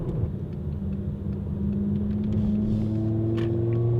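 A VW Golf 2.5 with an AWE Tuning exhaust pulls onto a freeway, heard from inside. The engine drones steadily and builds in pitch as it accelerates, over constant road rumble.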